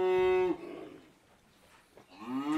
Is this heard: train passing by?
no